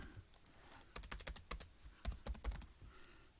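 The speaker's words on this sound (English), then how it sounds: "all we're going to do here is type in the name of the book" Someone types a book title on a computer keyboard: quick bursts of close, crisp key clicks, a rapid run in the middle and a second flurry after a short pause, then quiet.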